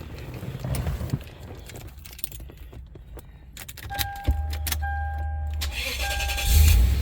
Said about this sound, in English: That's what I want to hear. Firing up right away.